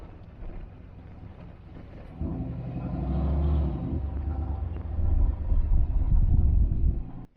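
An old truck on street tires drives along with a low engine rumble that swells and rolls, mixed with wind buffeting the microphone. No one speaks.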